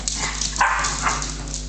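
Dogs bark and yip indoors in a short burst, a couple of sharp barks with some whimpering over a steady background hum.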